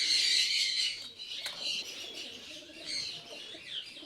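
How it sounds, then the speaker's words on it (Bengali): Khaki racing pigeons of a flying loft cooing and chirping nearby, several overlapping soft calls with a brief wing flutter. "এগুলো সব ফ্লাইং ইউনিটের কবুতর আমাদের।"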